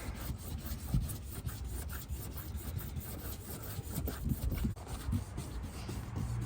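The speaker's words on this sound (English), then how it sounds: "Let's get some lubrication on there. Just rub it on down." Lubricant is rubbed onto car paint by hand during clay bar detailing, a close, steady scrubbing and swishing with rhythmic strokes and no talking.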